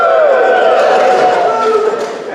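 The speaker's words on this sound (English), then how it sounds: "This is where you cheer wildly." A poetry festival audience at a book launch in Anacortes cheers wildly. Loud, sustained whooping voices blend together throughout, with a few scattered claps and shouts near the end.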